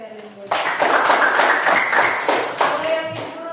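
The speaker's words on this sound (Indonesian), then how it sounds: "Tepuk tangan untuk Sherin." A classroom of students claps for a student named Sherin, a dense burst of many hands slapping at once that starts abruptly and holds steady for a few seconds.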